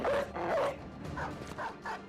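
Dog barking in the fantasy battle video game Oathtakers, a couple of short bark-like yelps in quick succession amid game effects, fairly close and moderately loud.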